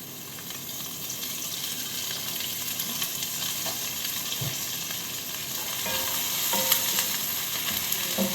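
Cooking oil sizzling in a pan for chicken liver adobo, a continuous close hiss that swells a little near the end, with faint clinks and no talking.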